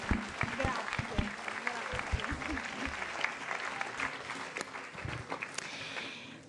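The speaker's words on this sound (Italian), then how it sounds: "facciamo un applauso." Audience applause at a conference in Rome, a room of listeners clapping steadily, dense and moderately loud, tapering off at the end with a voice faintly under it.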